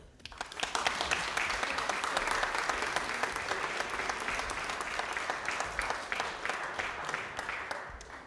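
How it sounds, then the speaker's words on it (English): Church congregation at an Easter Sunday service claps steadily for several seconds, a full, even roar of many hands with individual claps poking through near the end as it begins to thin. "more applause"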